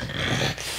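A French bulldog gives a short, close, low growl lasting under a second, with no voices alongside.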